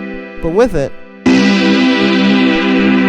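Lo-fi house synth with strong vibrato, unison, chorus and reverb, a sustained bright chord ringing loud after a brief spoken phrase.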